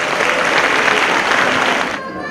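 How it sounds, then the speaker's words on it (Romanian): Audience at a community school event in Constanța applauding schoolchildren, a dense, loud burst of clapping that thins out near the end. "Haideți să-i aplaudăm!"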